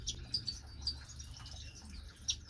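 Canaries and other small birds in an aviary give faint, scattered high chirps over a low steady background hum.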